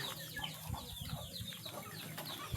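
Backyard chickens cluck and murmur around feeding time, a busy flock close by with soft overlapping calls and occasional wing flutters.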